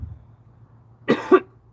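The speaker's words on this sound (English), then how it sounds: "the more I talk, the more I cough type idea" A single close cough in two quick bursts breaks an otherwise quiet stretch with only a low background hum.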